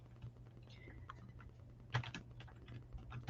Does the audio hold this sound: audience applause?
no